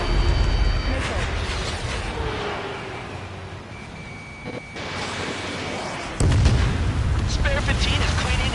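Loud booming missile blasts and rumbling explosions from an aerial combat video game, dense and continuous with cockpit-style radio voices calling out over the din.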